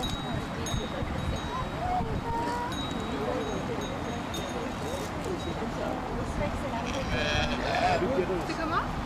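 Sheep bleating in Place Saint-Lambert, a city square in Liège, with scattered nearby calls over a constant crowd murmur and wind noise, a voice talking throughout.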